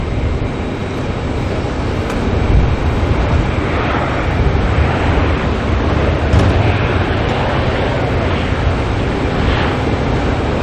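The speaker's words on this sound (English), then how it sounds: "Jetstar here coming in from Wellington." Jetstar airliner landing at Auckland Airport after a flight from Wellington, a steady broadband jet roar at moderate distance holding level throughout, with wind-like rushing layered over it.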